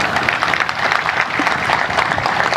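An audience at a spiritual discourse breaks into loud, sustained applause, a dense even crackle of clapping close by with no voices over it.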